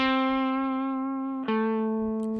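Cheap electric guitar played through an amplifier with the volume knob set at middle: a sustained clean note that slowly decays, then a second sustained note struck at about halfway, bright and resonant with faint string noise at the end.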